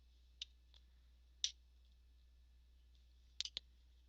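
A computer mouse is left-clicked during image editing, producing a few sharp, close, quiet clicks spaced irregularly, including a quick pair near the end, over a faint hum.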